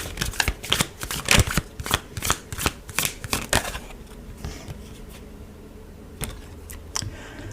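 Tarot cards being shuffled by hand: a rapid run of crisp, riffling slaps and flicks for several seconds, then a pause and a few isolated taps, close and clear with no voice.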